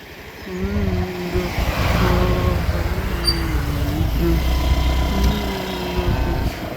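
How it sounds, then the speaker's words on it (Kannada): A car engine hums nearby on a muddy off-road track, its pitch rising and shifting as the vehicle draws closer, with a steady rumble throughout. "ತಡಿಲೇ ಕಾರ್ ಬರೋದು."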